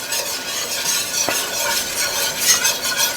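Flour and dry ingredients stirred into melted butter in a cast iron skillet to make a roux, a soft continuous sizzle with faint scraping strokes, close and steady.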